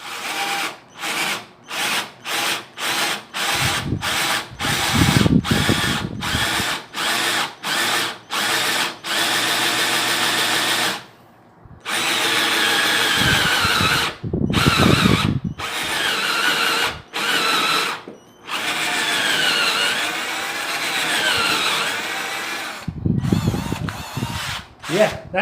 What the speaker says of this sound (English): Now let's try to use the bigger drill bit here.